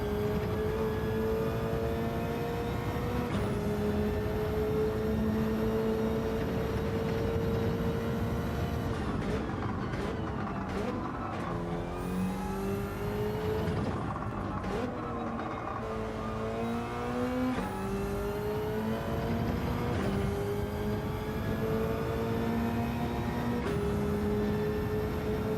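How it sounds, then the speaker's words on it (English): A Subaru race car engine in the Gran Turismo game at Suzuka revs loudly through repeated rising sweeps, each climb cut by a sharp drop at a gear change, with no talk. "Rev the Subaru out."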